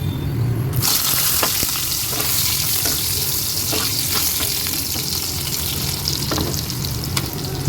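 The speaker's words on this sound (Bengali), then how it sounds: "আলু বেগুনটা ভেজে তুলে নিলাম" Potatoes and eggplant frying in a pan, a loud, dense sizzle that bursts in suddenly and continues unbroken, with occasional crackles and spatters, close up.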